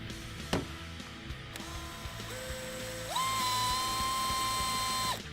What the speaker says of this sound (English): Grab yourself a 51/64 drill bit or a universal bit and drill it out.